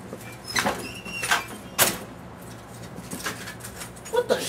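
A door opens with a handful of short, sharp clacks and rattles spread across a few seconds, set against a quiet room background.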